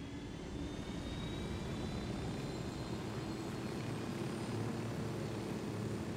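Steady, loud helicopter rotor and engine drone from the video game Ghost Recon Wildlands, a continuous close whir that fills the whole stretch with no talking.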